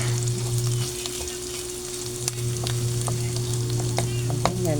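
Potatoes, onion and garlic fry in a pan for ginisang corned beef, a constant close sizzle punctuated by clicks and scrapes of stirring, with a low steady hum beneath and no talk.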